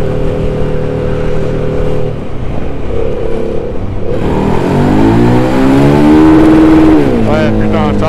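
A KTM Duke 990 motorcycle revs hard in first gear and bounces off its rev limiter. Its loud, close engine climbs in pitch, cuts out abruptly and then picks up again.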